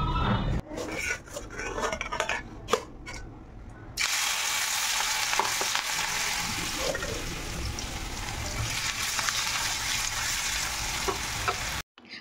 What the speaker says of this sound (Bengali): একটু একটু করে লাল লাল করে ভেজে নিচ্ছি।